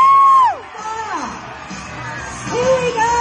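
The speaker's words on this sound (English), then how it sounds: "now I want to hear you scream like you just screamed then." A concert crowd at a hard rock show screams and cheers in a loud, sustained roar, rising and swelling again toward the end, with shouts and yells mixed into the babble.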